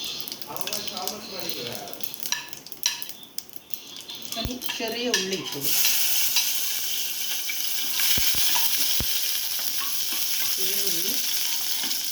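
Mustard seeds splutter and crackle in hot oil for a North Indian dal fry before a spoonful of cumin goes in. The close, loud frying hiss swells midway, with spoon and pan clinks, under a speaking voice.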